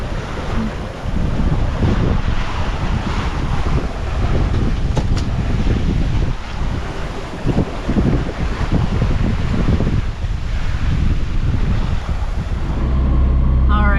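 Strong, gusty wind roars across the microphone on a sailboat at anchor-approach, with waves and surf churning steadily underneath, loud and continuous with no let-up.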